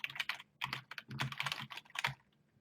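Typing a note on a computer keyboard, bursts of quick, close key clicks with short pauses between runs, fairly quiet and with no talking.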